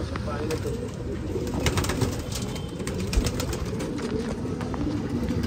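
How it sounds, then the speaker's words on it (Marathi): Pigeons cooing in a pigeon-keeping setting, with soft repeated coos and bird calls over steady background noise and occasional wing flutters, fairly close. "आणि हा कबूतर आपल्या आवडीचा कबूतर."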